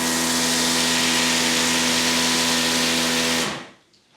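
Greenworks 80V battery pressure washer motor, a loud steady electric whine and hum running close and constant before cutting off abruptly near the end, leaving quiet.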